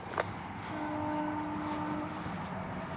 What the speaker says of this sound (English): Another train on his way up to Exeter